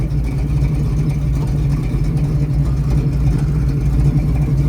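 A 351 Cleveland V8 in a 1940 Ford Coupe hot rod idles with a loud, steady low rumble throughout, close and continuous with no talking.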